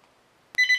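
A telephone rings on another line, starting abruptly after near-silence with a loud, bright trilling tone that fills the end of the moment.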